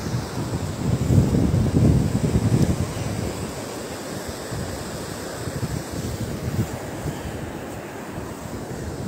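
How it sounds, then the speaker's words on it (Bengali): Ocean surf rolls onto the beach at Cox's Bazar's red crab beach, a continuous rushing wash of waves heavily mixed with gusting wind buffeting the microphone. "পানির আওয়াজটা, ঢেউয়ের আওয়াজটা"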